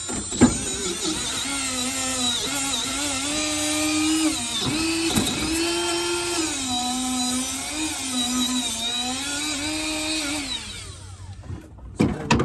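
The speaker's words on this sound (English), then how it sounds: "I've been using this as my Milwaukee die grinder with just a buffing wheel" Milwaukee die grinder with a buffing wheel polishing a part, a high, wavering whine that rises and falls as the load changes, then stops near the end.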